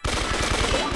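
Rapid, evenly spaced gunshots in Brawl Stars fire in a steady stream for about a second, loud and close with no talking.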